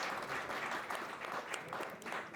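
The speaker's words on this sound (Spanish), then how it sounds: "quiero pedirles un fuerte aplauso a los panelistas" Audience applauding panelists at a live-streamed tax optimization panel event, a steady, dense wash of clapping filling the room without pause.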